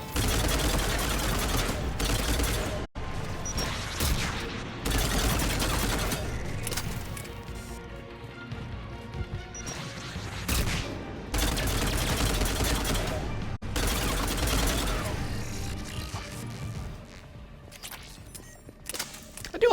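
Sustained bursts of automatic gunfire in the video game Mass Effect 3, loud and dense, coming in long volleys separated by brief lulls, with a voice speaking over parts of it.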